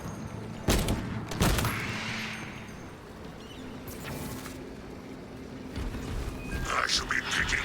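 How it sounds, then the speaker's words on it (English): Bolter fire from the Space Marine 2 video game, with heavy booming shots and explosive bursts spaced through the passage, mixed with game ambience and voices talking. "This bolter will roar in your name, Darius."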